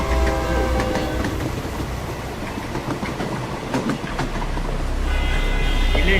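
In a movie teaser, a train passes loudly with a steady rumbling clatter of wagons and tonal horn blasts over it. The sound swells again toward the end.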